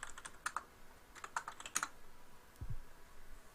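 A password is typed on a computer keyboard in short clusters of crisp, close key clicks with pauses between them, in a quiet room with a faint low background hum.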